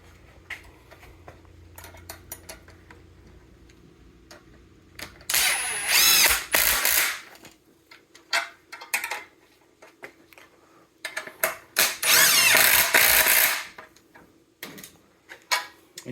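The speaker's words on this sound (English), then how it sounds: "Impact gun here, and we'll just run them on." Impact gun running nuts onto 1/4-20 bolts while building a collapsible work table: two loud, close bursts of hammering whir of a second or two each, set between scattered clanks and taps of hardware being handled.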